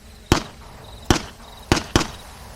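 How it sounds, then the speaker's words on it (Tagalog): Four sharp gunshots from a guard's pistol in a dramatized Filipino aswang horror story, loud and close, the first two spaced evenly, the last two fired in quicker succession, with no talking over them. "Lahat ng bala ay talagang pumutok."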